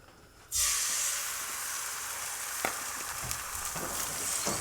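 Three eggs hit a hot Starfrit Rock Diamond Edition pan, bursting into a sudden loud sizzle that settles into a steady crackling hiss with a few small pops, close by and without talk.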